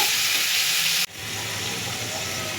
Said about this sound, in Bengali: এই জিরে লঙ্কা বাটা দিয়ে দিলাম তেলের ওপর। মশলাটা সাঁতলিয়ে নেব।